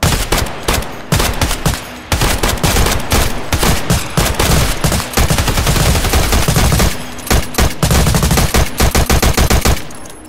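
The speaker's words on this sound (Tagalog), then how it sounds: "at sa isang iglap, nabulabog ang bahay ng putukan at pagsabog" An audio drama fills with loud, chaotic gunfire: rapid machine-gun bursts and single shots crackle almost nonstop, with short pauses between volleys and no voices.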